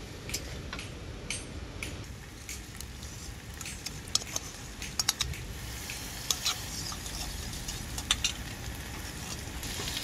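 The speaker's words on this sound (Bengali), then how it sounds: "এরপর আমি এর মধ্যে দিয়ে দেবো ফাটানো টক দই" Sour curdled yogurt goes into a spice paste frying in a pan for yellow vegetarian cauliflower, giving a steady close sizzle with stirring scrapes and a few sharp ticks, with no talking.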